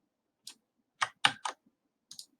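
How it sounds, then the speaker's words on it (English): Keys tapped on a computer keyboard in a quiet room, a handful of sharp, close clicks in two short clusters with gaps between. "I'm going to type it one more time so I get it printed out."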